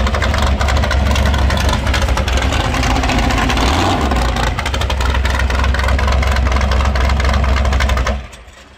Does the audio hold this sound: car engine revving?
yes